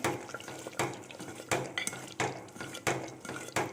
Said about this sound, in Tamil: நெக்ஸ்ட்டு பெருங்காயத்தூள், இந்த ரெண்டையும் ஆட் பண்ணி நல்லா மிக்ஸ் பண்ணிக்கோங்க.